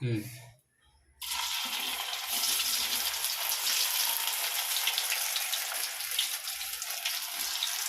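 Cauliflower pakoda batter drops into bubbling groundnut oil in a kadai, setting off a sudden loud, steady frying hiss after a short quiet moment, heard close up.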